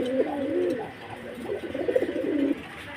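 Racer pigeons give low, rolling coos in two close bursts, the second longer and more insistent, over faint background hiss without talk.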